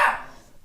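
A pet dog gives a single sharp bark nearby, loud at first and then trailing off within a fraction of a second, with no talking around it.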